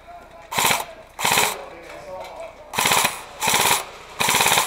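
An airsoft gun at an outdoor event in Lawson, Missouri fires plastic rounds in five quick, loud, even bursts, each a tight mechanical rattle with brief gaps between.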